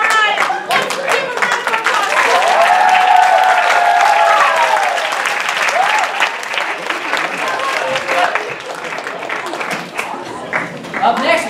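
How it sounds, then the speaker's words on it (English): Audience applause at an improv show, a dense burst of clapping and cheering from a live crowd that holds steady for several seconds before slowly thinning out, with voices mixed into the noise. "round of applause"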